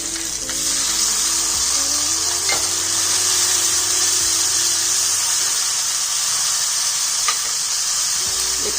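Chopped tomatoes fry with crushed ginger and green chilli in a pan for a Punjabi tiffin dish, a loud, steady hiss and sizzle that continues unbroken, with a few faint clinks of stirring.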